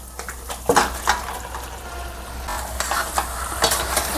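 Marinated chicken sizzles and fries in a hot pan, with scraping stirs and clinks of a utensil against the pan throughout.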